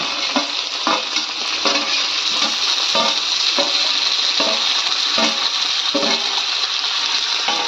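Green chillies and peanuts frying in oil while being stirred, a bright continuous sizzle broken by regular scraping strokes of a spatula in the pan roughly every half second.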